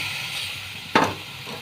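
Marinated eggplant and small fish going into hot oil with browning onions, a steady frying hiss broken by one brief, sharp sizzling burst as the food hits the pan.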